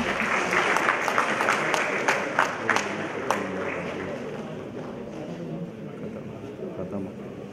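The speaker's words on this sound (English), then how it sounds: "Please give a round of applause." An audience at an IIT Kanpur event breaks into applause, with sharp individual claps standing out early before the clapping thins into a softer crowd murmur and mixed voices.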